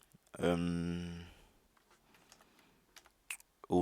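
Computer keyboard typing while a bash shell script is written, coming as a run of quiet, uneven key clicks after a short burst of voice at the start.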